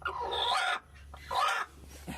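A brooding hen gives drawn-out, agitated clucking calls in two loud bursts separated by a pause, close by, followed by a shorter faint cluck, over a low background hum.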